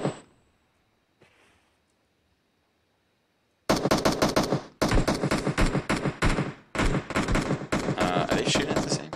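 Gunfire, with rapid bursts of loud automatic shots starting after a few near-silent seconds and continuing in sharp, dense volleys with brief pauses.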